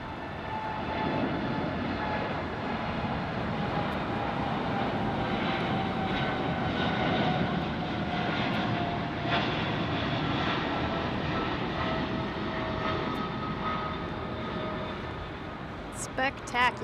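An airliner taking off at LAX for Toronto roars loudly and continuously through the whole stretch, a dense, sustained engine rumble close by that barely eases before a few faint clicks at the very end.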